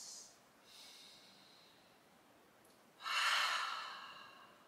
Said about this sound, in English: Finding a few deep breaths.